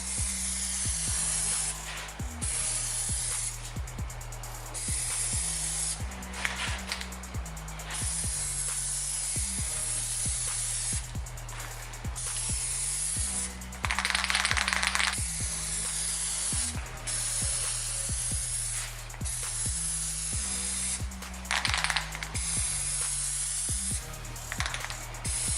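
A Plasti Dip aerosol can sprays in repeated short and long bursts to clear its nozzles before coating a motorcycle, with close, loud hissing broken by brief clicks and pauses.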